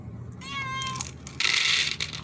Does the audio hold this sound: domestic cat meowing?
yes